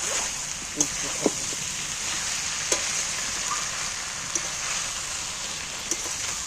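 Tomatoes frying in a pan while cooking a jackfruit curry give a steady close sizzle, broken by a few soft clicks of stirring, with no speech.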